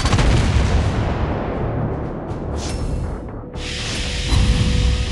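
Naval guns of a pan-Asian cruiser firing in the World of Warships game, a heavy booming blast that rolls off into a long fading rumble, followed by another sharp burst, loud and alone.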